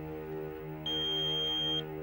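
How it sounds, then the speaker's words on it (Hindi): A steady high electronic answering machine beep lasting about a second, sounding over a low background hum. "प्लीज बीप के बाद अपना मैसेज छोड़ दें"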